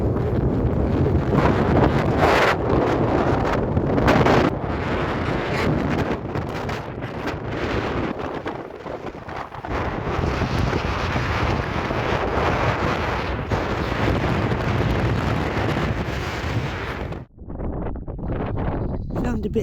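Strong wind buffeting the microphone at the very top of a hill by a trig point, a loud continuous rushing gust with brief dips, filling the scene.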